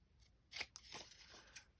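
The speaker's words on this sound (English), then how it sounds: "And then we'll just finish trimming this up and glue it on." Scissors trim paper for a journal page with a few quick, faint, close snips and rustles.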